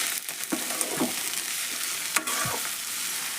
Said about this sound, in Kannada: ಎಲ್ಲ ಒಗ್ಗರಣೆಗೆ ಮಿಕ್ಸ್ ಮಾಡಿದ್ನಿ ರೀ ಮೆಂತ್ಯ ಪಲ್ಯ